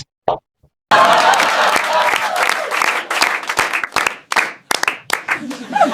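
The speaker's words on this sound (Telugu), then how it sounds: "క్లాప్స్" A comedy show audience bursts into loud applause after a brief pause, clapping steadily before thinning into scattered, uneven claps.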